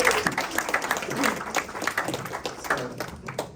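Audience at a startup pitch event giving a round of applause, a burst of many hands clapping in an indoor hall that rises and gradually thins out.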